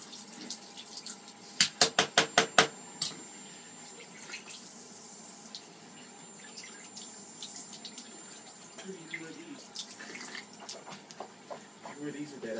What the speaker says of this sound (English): Now I'm gonna rinse.